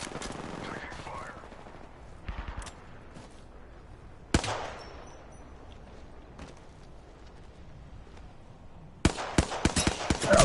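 Gunfire in the shooter Apex Legends: short bursts of rapid shots crackle at several moments, with a heavier volley near the end, over a steady bed of game ambience.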